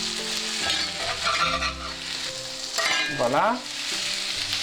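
French toast frying in butter in a hot pan, a steady close sizzle running throughout with brief scraping and stirring movements, while a voice speaks a word near the end.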